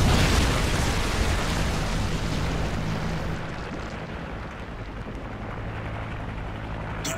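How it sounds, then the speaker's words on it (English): Predator missile explosion in Call of Duty Modern Warfare 3, heard as a loud, rumbling broadband blast that fades into a lower sustained roar. No speech. "Friendly Predator missile inbound."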